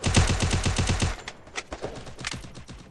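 Rapid automatic gunfire from the battle royale game Free Fire rattles in a fast, loud burst for about a second, followed by a few scattered single shots and lighter clicks.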